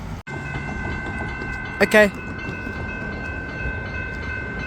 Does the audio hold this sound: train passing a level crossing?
yes